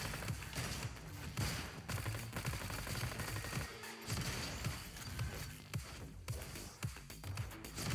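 Rapid automatic fire from a tiny SMG in the video game Roboquest, a dense stream of shots with game music and effects layered underneath, plus a brief pause midway.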